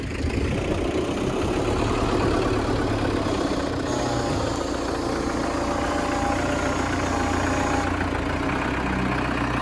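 An MTZ 892 tractor fitted with a Galtech loader and jaw bucket runs steadily close by, a loud continuous engine drone with a faint higher whine partway through, no voices.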